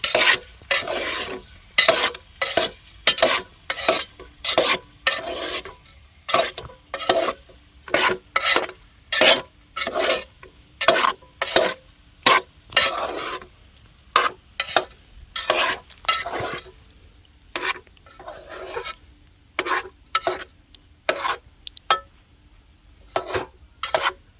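Chopped potatoes stirred in a pan for a village-style potato curry, a rapid run of scraping spoon strokes in loud bursts with short pauses, close up and with no talking.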